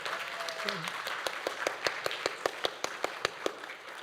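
Wedding guests break into applause for a newly married couple. Soft scattered clapping settles into a faint, evenly spaced run of distinct claps, fairly quiet, with a brief voice speaking near the start.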